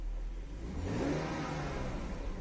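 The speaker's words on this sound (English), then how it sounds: "If we rev the engine a little bit" A BMW car engine revving up slightly from idle, a steady mid-pitched drone that rises and swells briefly before settling back, close and alone without talk.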